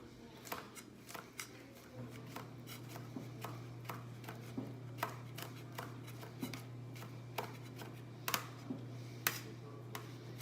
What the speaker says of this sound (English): finely chop it.